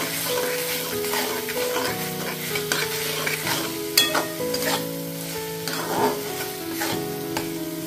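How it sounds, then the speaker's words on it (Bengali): Ivy gourd masala sizzles steadily in a pan while a spoon stirs and scrapes through it, close and continuous with occasional clatter, and no voices. "এটা টাইম নিয়ে একটু ভালোভাবে কষিয়ে নিতে হবে।"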